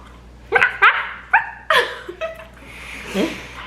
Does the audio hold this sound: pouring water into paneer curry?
no